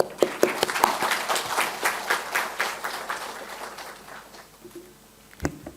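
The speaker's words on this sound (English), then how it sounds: "And we bow to you with a mighty applause." Applause from an audience at a university chancellor's felicitation ceremony: a dense burst of many hands clapping that gradually thins and fades, ending with a single sharp knock.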